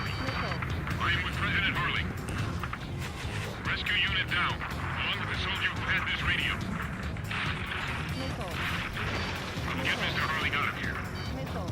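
Missile launches and explosions from aerial combat in Ace Combat 7 rumble and burst repeatedly in dense layers, with radio voices talking over the battle throughout.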